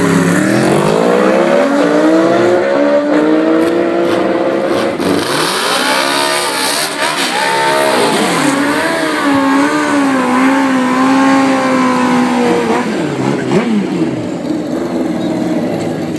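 A racing motorcycle at a motorcycle club event accelerates loudly and close, its engine note rising through the revs, dipping and climbing again in a sustained high-pitched wail.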